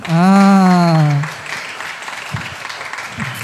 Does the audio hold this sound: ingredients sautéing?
no